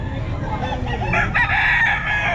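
A young rooster (stag) crows at a busy Bocaue pet market, one loud drawn-out cock-a-doodle-doo rising over steady crowd murmur and background clucking.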